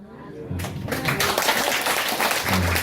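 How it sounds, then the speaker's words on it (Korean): Applause from a church congregation during a Sunday worship service, swelling after the first half second into steady sustained clapping from the audience, with a voice speaking faintly beneath it. "박수 받으려고 했던 건 아니고요."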